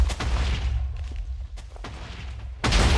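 Incoming fire in the Minecraft minigame Bomb Lobbers, a string of booming thuds and sharp blasts of varying distance, with a heavy loud explosion at the end; no talk.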